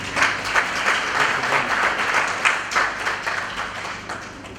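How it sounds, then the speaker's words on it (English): Crowd applause at a Northern Uganda film awards gala, a full, sustained roar of many hands clapping with gentle swells, fairly loud and uninterrupted by talk. "Let's give them a hand of applause."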